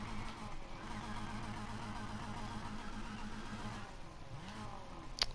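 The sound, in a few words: Mercedes A45 car engine revving, Need for Speed Heat video game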